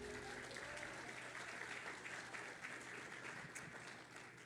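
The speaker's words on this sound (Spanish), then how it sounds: "Denle un aplauso a Él, aleluya." A church congregation clapping together, a steady wash of applause that sounds distant and quiet.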